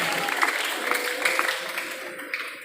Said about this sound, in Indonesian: Tepuk tangan untuk beliau yang luar biasa hari ini.